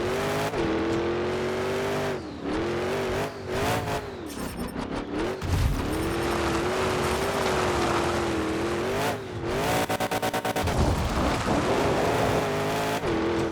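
Monster truck engines roar and rev in the Monster Jam Showdown video game, loud and continuous, with pitch rising and falling through shifts, bursts of crackling backfire and tire squeal, and brief dips around heavy landings.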